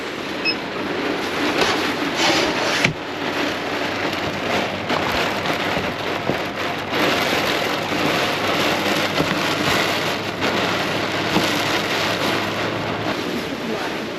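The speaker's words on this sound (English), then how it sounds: "When she rains, she rains." Heavy rain in Western Australia pours down steadily, a loud, dense, close roar of drops drumming on a surface, with brief louder splashes throughout.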